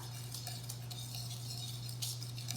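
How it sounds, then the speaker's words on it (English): A spatula scrapes and stirs through pumpkin pie batter in a bowl. Soft, irregular clinks and scrapes sit over a steady low background hum, close and quiet. "Now we mix it around with a spatula."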